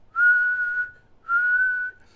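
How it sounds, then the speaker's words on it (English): A person whistles two sustained, steady clear notes with a short pause between, loud and alone. "See, the thing is with whistling, there's like levels."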